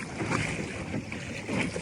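A Sunfish sailboat moving across open water, with a steady rush of wind and water splashing against the small hull, loud and close for a brief moment, no voices.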